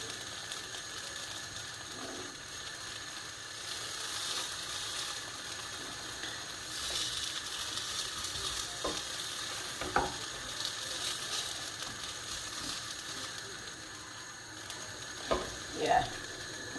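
A pancake frying in a pan, a faint, even sizzle running throughout, joined by a few soft scraping and tapping touches of a spatula working around the edge near the end; no one speaks.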